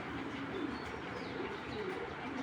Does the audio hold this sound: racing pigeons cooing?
yes